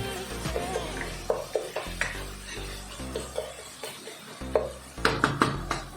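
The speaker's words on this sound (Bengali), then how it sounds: "মিডিয়াম টু লো ফ্লেমে কষিয়ে নেবে যত সময় মশলা থেকে তেল না ছাড়ছে তত সময় কিন্তু আমি কষাতে থাকবো" A mutton curry spice paste sautés over medium-to-low heat, with repeated spoon scrapes and knocks against the pan over a soft sizzle, close and alone.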